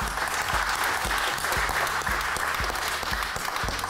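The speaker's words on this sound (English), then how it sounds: "So can we give everyone a round of applause?" A seated audience claps steadily at an organised data science event, a dense, even wash of applause that holds for several seconds without cheering.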